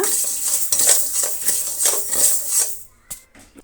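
Rice being fried in a pan gives quick scraping, clinking stir strokes with a metal spoon, a rapid run of close scrapes that stops near the end, followed by a couple of isolated taps.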